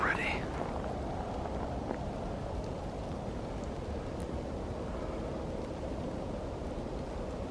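Steady wind blows through a woodland nature trail, a broad constant rushing that fills the whole stretch with no breaks.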